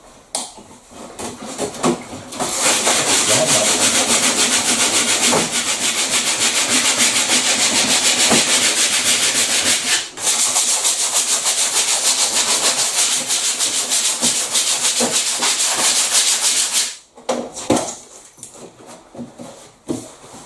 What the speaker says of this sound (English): So now I'm going to start polishing up the corners.